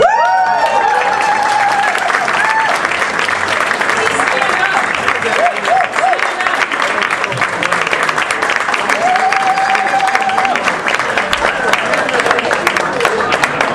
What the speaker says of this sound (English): can we have a big round of applause for Mary, Catherine, and Joan